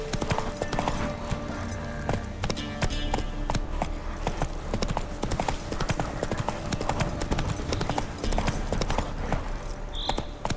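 Roach the horse galloping in The Witcher 3, with rapid, continuous hoofbeat clip-clops in a driving rhythm, loud and close, plus a brief higher tone near the end.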